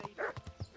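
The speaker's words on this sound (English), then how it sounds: "there's a dog chasing me" A dog barks in the medieval role-playing game Kingdom Come: Deliverance, giving three or four short, quick, fairly faint barks in less than a second.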